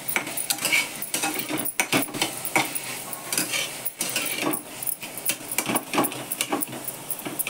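Leftover chapati pieces are lightly mashed in a pan for masala chapati, giving a close, steady run of scraping, tapping and clattering of a utensil against metal, with no talk over it.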